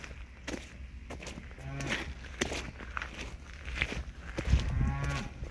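Dairy cows moo in a couple of low, drawn-out calls outdoors, with shuffling hoof steps and rustling nearby at moderate volume.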